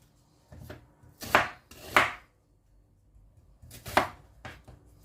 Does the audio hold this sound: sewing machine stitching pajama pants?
no